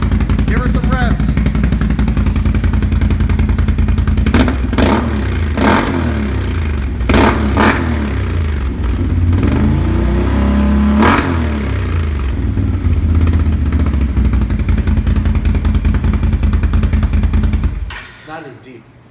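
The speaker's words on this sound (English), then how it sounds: "Give her some revs." A 2019 Can-Am Renegade 1000R XXC quad with a Yoshimura exhaust and its regulator removed, revved repeatedly in loud, close blips over a rumbling idle before cutting off at the end, with people talking over it.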